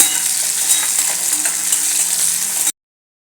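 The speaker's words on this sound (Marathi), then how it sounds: "कांदा भाजत आलाय याच्यात घालूया टोमॅटो टोमॅटोही थोडा परतून घेऊया" Onion and tomato sauté in a hot pan for a potato curry, giving a steady, close sizzle with faint stirring scrapes that runs unbroken for nearly three seconds, then cuts to silence.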